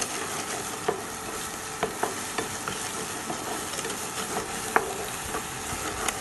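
Garlic, onion and chili sauté in olive oil for a fish dish, making a close, dense sizzle with scattered sharp ticks and scrapes from stirring.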